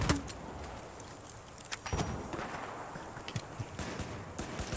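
Several sharp, punchy gunshots from the video game Battlefield 4 ring out at irregular intervals over a low background hum, each a sudden loud crack.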